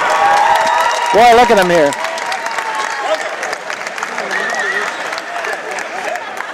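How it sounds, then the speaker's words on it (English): A college wrestling crowd at a Maryland versus American University meet cheers and applauds in a sustained, loud roar after a pin, with a commentator's voice briefly cutting in. "Oh, boy, the crowd goes wild."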